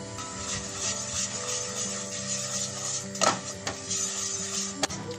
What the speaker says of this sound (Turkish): Tenceremize, tavamıza artık ne kullanıyorsanız böyle tepeleme un katıyoruz. Ve güzelce kavuruyoruz.